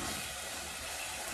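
A Scotch bonnet pepper frying in a pan, giving a steady, broadband sizzle and hiss that stays even and close throughout, with no talk over it.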